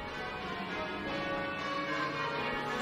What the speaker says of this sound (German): Diese Glocken läuten im wohl modernsten Glockenturm der Welt in Perth